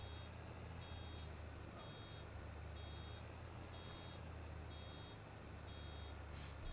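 Baler in Farming Simulator 22 sounds a steady series of evenly spaced, high electronic beeps while it bales. The beeps sit over a constant low rumble of machinery, with no talking.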